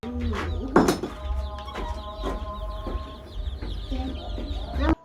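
Chicks on a chicken farm in Tanzania cluck and cheep continuously up close, a dense overlapping chorus of short calls with a louder squawk near the start.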